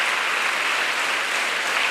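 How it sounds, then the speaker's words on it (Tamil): A school audience gives steady, even applause for the sanitation workers who keep their school clean, a close, continuous patter of many hands with no voices over it. "கைத்தட்ட உங்களுக்காக."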